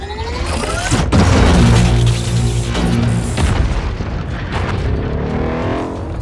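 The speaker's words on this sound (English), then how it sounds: "Plasma cannon!" A plasma cannon blast from the film Pacific Rim Uprising erupts as a loud, heavy boom with a sharp crack followed by a sustained roaring, rumbling tail and descending whine.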